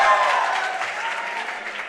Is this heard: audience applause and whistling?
yes